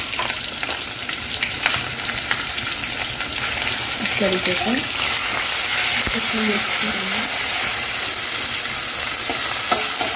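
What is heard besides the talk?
ginger garlic chili paste frying with garam masala in pot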